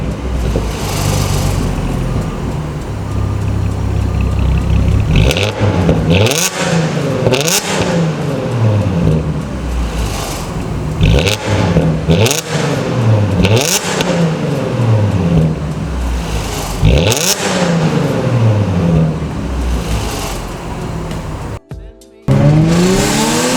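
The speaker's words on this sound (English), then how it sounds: "Very raspy and loud from outside" A loud, raspy car exhaust revs hard several times, each burst of acceleration rising in pitch before dropping back, then cuts off abruptly near the end.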